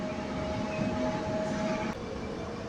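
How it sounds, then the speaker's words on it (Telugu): A DEMU passenger train pulling out of Malugur station on the Hindupur–Guntakal line, heard as a steady, close rumble of engine and carriages with a sustained tonal hum and a slight drop in level near the end. "మలుగురు నుంచి మన ట్రైన్ బయలుదేరింది"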